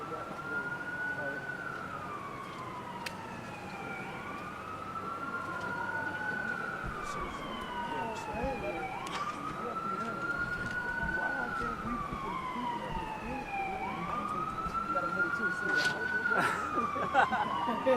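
An ambulance siren wails on a street in southeast Houston, its rising and falling tone repeating steadily as it passes close by with traffic noise beneath.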